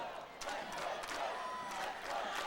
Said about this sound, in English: And the crowd imploring Joe Belgio, chance of let's go Joe.